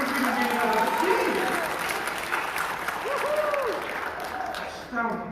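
An audience applauds at a Madrigal Maskerade feast show: steady, dense clapping from a crowd runs throughout, with a voice talking over it.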